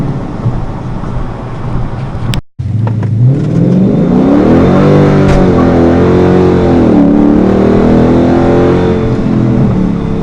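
A car on Nitto NT555 G2 tires revs hard with wheels spinning, its loud engine note climbing, dipping and rising again after a brief cut, close and continuous.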